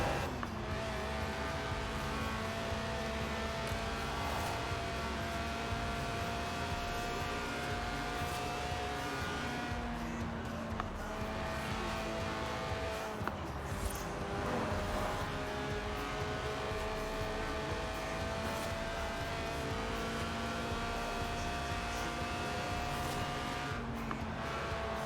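A Lotus with a 1.8-litre, 190-horsepower engine that revs to 8,000 RPM, in the Forza Horizon 4 racing game, drones steadily and loudly, its pitch rising and falling through gear changes without pause.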